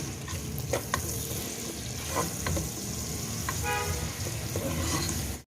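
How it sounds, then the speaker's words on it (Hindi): Onions frying in a pan until light pink for egg keema, a constant crackling sizzle with occasional utensil scrapes and a faint car horn in the background. "इसे मैं लाइट पिंक कलर का फ्राई करूंगी।"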